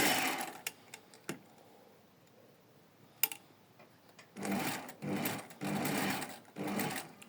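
A sewing machine stitches two pieces of fabric together: a few scattered ticks and clicks, then several quick, close bursts of rapid mechanical whirring separated by brief pauses.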